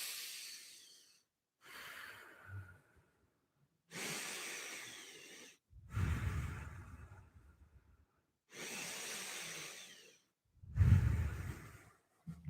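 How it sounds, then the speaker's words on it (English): Slow nasal breathing during an actor's breathing exercise, with several clear inhales and exhales through the nose alternating with short silences, close and fairly soft. "just breathe in through your nose and out through your nose"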